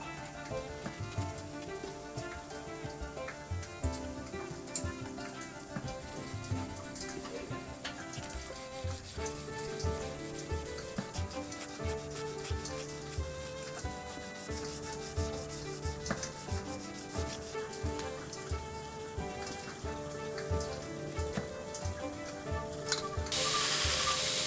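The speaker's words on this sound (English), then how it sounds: "I will hand sand this to 800 grit before putting it in gun blue," Steady, continuous rubbing of abrasive paper as a forged steel Highland dirk blade is hand sanded up to 800 grit, close and even throughout, with no talk.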